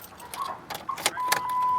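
Keys jangle and click in a car's ignition as it is turned on, followed by a steady electronic warning chime that rises and holds, all close and fairly loud.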